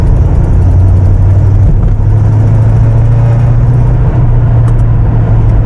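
A tuned TVR Chimaera 400 V8 in fourth gear at low revs with half throttle applied, giving a loud, steady deep rumble and a leaking exhaust gasket, with constant wind and road noise under it.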